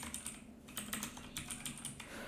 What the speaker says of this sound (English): I'm typing my text here